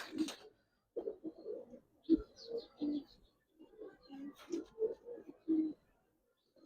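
A Satchila-pattern pigeon coos nearby in soft, repeated rounded calls, spaced irregularly with short pauses between bursts.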